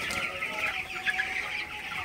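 Broiler chickens on day 21 clucking in the evening, a continuous close chorus of overlapping clucks and chirps.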